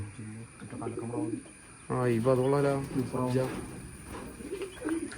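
Pigeons coo in low, rounded repeated phrases at a pigeon loft, mingled with people talking nearby throughout.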